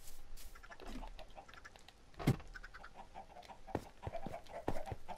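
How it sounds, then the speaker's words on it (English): Chickens in the Minecraft video game cluck in short scattered bursts, some close and some farther off, with a few sharp clicks mixed in, under no talk. "I'm gonna break this world eventually with all the chickens that I'm making."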